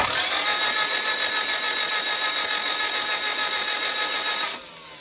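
A car engine cranks on the starter during a compression test on a suspected failed cylinder. A loud, steady mechanical whine holds for over four seconds, then cuts off abruptly.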